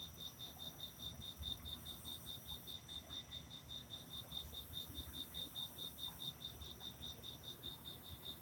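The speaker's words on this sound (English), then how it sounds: "the crickets." Crickets chirp in a steady, continuous pulsing chorus, a fairly faint and even outdoor insect drone lasting throughout with no voices.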